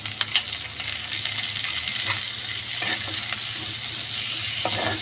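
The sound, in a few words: potatoes frying with onion and chili in a pan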